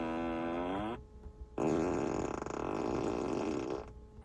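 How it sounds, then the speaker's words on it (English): Novelty fart-noise feature of a Tesla Model S Plaid: a loud, buzzy synthetic fart with a falling pitch, a short pause, then a longer, sustained raspy blast playing alone. "There's also dumb features like the farting noises"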